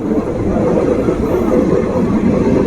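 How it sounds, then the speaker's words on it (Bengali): Howrah Kaviguru Express (13028) running on the rails near Rampurhat Junction, a loud, steady broadband rumble of wheels and carriages rolling continuously without pause. "চলে যাচ্ছে চলে যায় ট্রেন"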